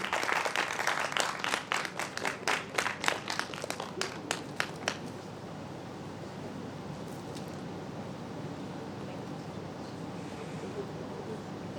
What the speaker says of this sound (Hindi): जोरदार करतल ध्वनियों से विदा दीजिए।